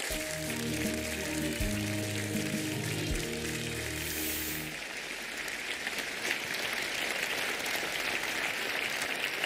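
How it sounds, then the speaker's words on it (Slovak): An audience applauds at a Slovak television awards ceremony, a dense, steady wash of clapping that carries on after music underneath fades out partway through. "Ďakujeme veľmi pekne za váš potlesk"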